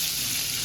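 Paneer cubes seasoned with turmeric and chili powder fry in hot butter, a steady, close, hissing sizzle that runs evenly without pause or talk.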